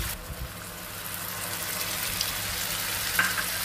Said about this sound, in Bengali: এই গুলে মাছগুলো এই লবণ হলুদ মাখানো আছে, এখন এর মধ্যে দিয়ে দিচ্ছি